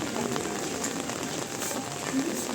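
Rain falls steadily in the Arashiyama bamboo forest in Kyoto, a soft even hiss of drops on leaves and ground, moderately close, with a few brief louder patters.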